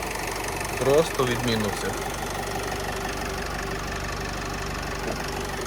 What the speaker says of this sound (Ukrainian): От робота мотора.